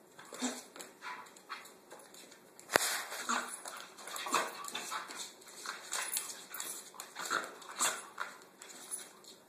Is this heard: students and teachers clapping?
no